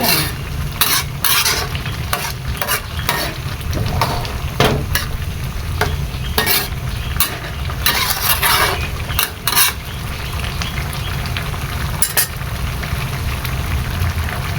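A pot of fish curry with papaya and chopped fish being stirred over heat, with steady scraping and clattering strokes over a continuous sizzling simmer, close and fairly loud, with no talk.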